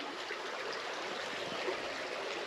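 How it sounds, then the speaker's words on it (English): A fast trout stream flows under a bridge beneath overhanging trees, a steady, even rushing of water with no breaks, moderately loud and close, with no voices. "Of course, there's faster current, making that good oxygenated water."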